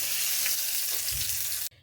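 Hot oil for a tempering of spices sizzles loudly and steadily up close, a dense crackling hiss that cuts off abruptly near the end.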